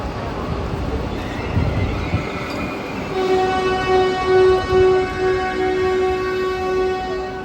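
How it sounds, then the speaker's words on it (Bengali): A Vande Bharat train pulls out of a station platform, its horn sounding a long sustained blast over steady rumbling wheels and a hum that swells as it moves off. "বন্দে ভারত কিন্তু ছেড়ে বেরিয়ে যাচ্ছে।"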